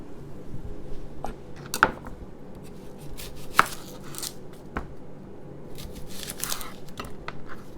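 A knife trimming the ends off an onion on a cutting board: a few sharp, isolated chops and taps with soft shuffling between them, close and fairly quiet.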